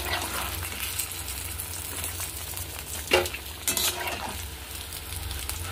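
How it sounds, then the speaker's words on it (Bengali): Fish fry in hot oil with a steady close sizzle, broken by a couple of sharper bursts and clatters as the pieces are stirred and turned, no talk over it. "আর এইভাবেই আমি সব কটা মাছই ভেজে নেব।"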